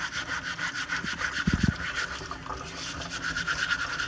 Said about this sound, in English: This is a steel wool scrubby. It's kind of old, so it looks pretty bad, and just really scrub hard on it and get all the dirt off